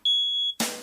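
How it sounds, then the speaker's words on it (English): A household smoke detector going off after eggs were cooked, sounding as one loud, piercing high-pitched beep held for about half a second, then cut off by a burst of noise. "you're not supposed to use a smoke detector when you're done cooking the eggs"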